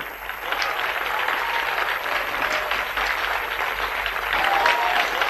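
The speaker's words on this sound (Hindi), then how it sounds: "प्रभु के लिए जोर से ताली बजाइए" Applause from a church audience at a Benny Hinn service, steady, dense clapping from a large crowd filling the whole stretch, fairly loud and unbroken.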